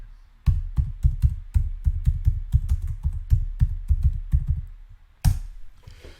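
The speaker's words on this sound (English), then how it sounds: "I'll just type in here." Typing on a computer keyboard, a steady run of close, distinct key taps at a brisk, slightly uneven rhythm, ending with one louder keystroke.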